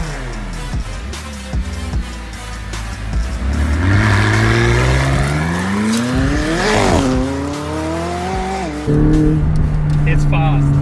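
A McLaren 600LT's engine revs and accelerates hard, its pitch climbing and falling through gear changes and rising again, loud and close.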